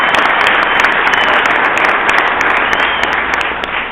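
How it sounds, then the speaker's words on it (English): Loud, dense applause from a tour audience welcoming guests Randy and Sherry Froster, continuous clapping close and full for about four seconds, tapering slightly at the end. "Give them a round of applause."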